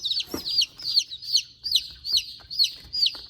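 Baby chicks peeping close by, a steady run of high, shrill cheeps repeating about three times a second.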